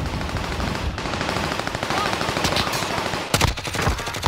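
Automatic gunfire in the Call of Duty: Modern Warfare video game, with rapid machine-gun bursts rattling close and loud and sharper shots punching through near the end.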